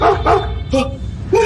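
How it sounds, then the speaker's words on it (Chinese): A dog barks several times in quick succession, sharp close yaps with short gaps between them, and a brief voice is heard alongside. "听到狗叫"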